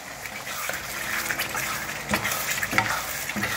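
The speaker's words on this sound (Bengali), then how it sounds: "এবার ফুলকপি দিয়ে দিলাম" Cauliflower fries in a pan, a continuous moderate sizzle with brief stirring scrapes and clinks breaking through, no voices.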